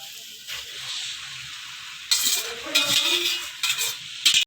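Boiled spaghetti is stirred into a chicken and vegetable mixture in a pan, wet squelching and scraping strokes in several bursts over a faint sizzle, close by.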